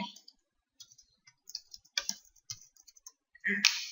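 Typing a file name on a computer keyboard during a Camtasia Studio screen-recording tutorial: a few short bursts of light, close key clicks with brief pauses between them, ending in a louder tap.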